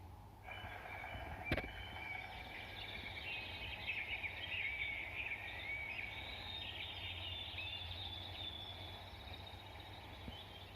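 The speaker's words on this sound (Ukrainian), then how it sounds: "співають пташечки вітер шелестить листочки" Birdsong in a forest, a faint, thin chirping and trilling line running through most of the clip over a soft steady background hiss, with one sharp click near the start.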